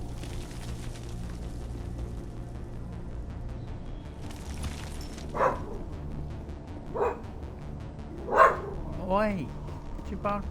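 A dog barks several times in separate bursts during a game session, moderately loud over a steady low background hum, with someone talking in the scene.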